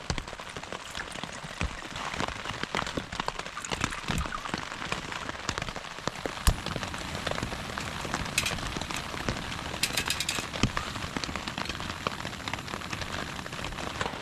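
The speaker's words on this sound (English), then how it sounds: "You can hear the rain is coming down hard again." Heavy rain pounds a tent during a rainy night of backpacking in Killarney Provincial Park, a dense, loud patter with scattered sharper drop impacts that continues steadily throughout.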